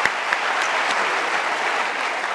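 A theatre audience claps steadily in dense, continuous applause for a balcony scene from Romeo and Juliet. The clapping is loud and even throughout.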